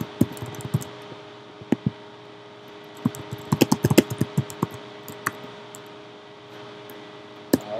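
Typing on a computer keyboard, heard as irregular bursts of close, crisp key clicks with short pauses between flurries, alone over a faint steady background hiss.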